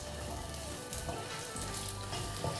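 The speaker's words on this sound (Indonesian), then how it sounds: "lalu tumis bawang putih." Garlic frying in a little hot oil in a pan, a steady close sizzle and crackle throughout with no talking.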